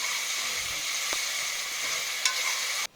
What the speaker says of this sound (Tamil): இதில் தேவையான அளவு உப்பு சேர்த்துட்டு தக்காளி நல்லா வெந்து கூட்டு மாதிரி வர வரைக்கும் வதக்கணும்